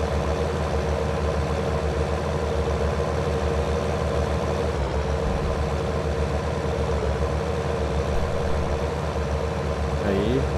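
Steady tractor engine drone in the farming game Farming Simulator 19, a continuous low idling rumble that holds at an even level throughout, with no other sounds rising above it.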